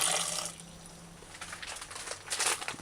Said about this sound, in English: add enough water that the cabbage is immersed